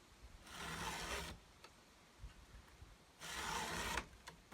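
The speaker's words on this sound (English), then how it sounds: "then I flip the file over and I can now sharpen the teeth on the other side" A file sharpens the chain teeth of a STIHL MS291 chainsaw with two faint, rasping strokes about a second long each and a quiet gap between them.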